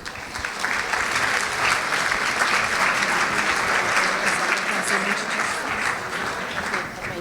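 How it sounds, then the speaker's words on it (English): A conference audience applauds a panel coming onto the stage, with sustained loud clapping from a sizeable crowd lasting several seconds. "Round of applause for the panel, ladies and gentlemen"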